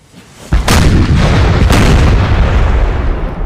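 Cannon artillery fire in Napoleon: Total War, a small six-pound field battery: a sudden loud boom at the start, then a second blast about a second later, with a long rumbling roll of battle noise sustained throughout.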